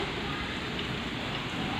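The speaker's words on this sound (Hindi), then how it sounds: "देखो फ्रेंड्स, कितनी बारिश हो रही है।" Heavy rain pours down in a dense, constant hiss, loud and unbroken, with no voices over it.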